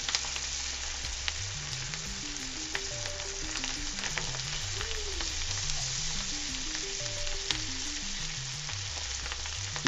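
Garlic and asparagus frying in a pan give a constant bright sizzle, with quiet background music playing steadily underneath.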